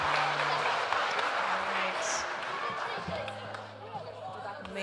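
A church congregation gives a round of applause after a children-led worship service celebrating the empty tomb, steady clapping spread across the room with hollow thumps and voices mixed in.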